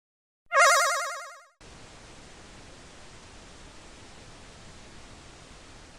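Noisy stage music from a Sonic the Hedgehog fan game, a steady wash of hiss-like static that runs on without a break after a short, bright, warbling tone at the start.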